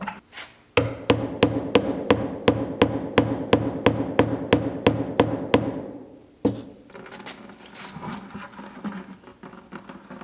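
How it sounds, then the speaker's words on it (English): A hammer strikes a metal punch into a car's gas tank in a steady rhythm, about a dozen ringing blows, then one final hit followed by rustling and clatter. "I got me a punch and I got me a hammer"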